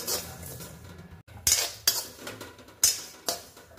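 Whole spices such as cloves and black pepper dry-roasted and stirred in a pan for a lemon and green chilli pickle, with a few sharp metallic spoon scrapes and clinks against the pan over a soft hiss, close and alone.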